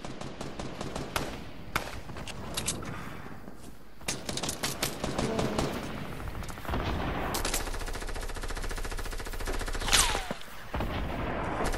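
Battle sounds in a game: rapid machine-gun bursts and scattered single shots crack at moderate loudness, with booming blasts in between and nearly continuous firing in the second half.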